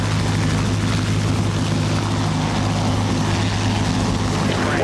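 A Bell JetRanger police helicopter on a night patrol over New York holds a steady, loud rotor and turbine drone with constant blade chop, close by and unbroken throughout.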